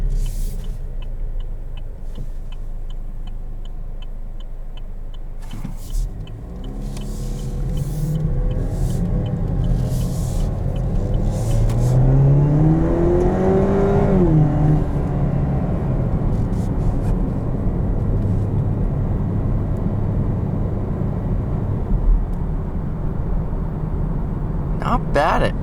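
A 2020 Chevrolet Camaro LS with an automatic gearbox pulls at full throttle, its engine note rising steadily in pitch as a loud, sustained rumble, with talk over the drive.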